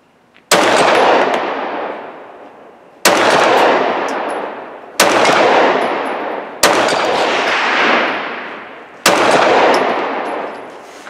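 Handgun shots fired with a Roni conversion kit strike steel plates at a shooting range: five loud, sharp reports, each followed by a ringing clang of steel and a trailing decay, spaced roughly two seconds apart.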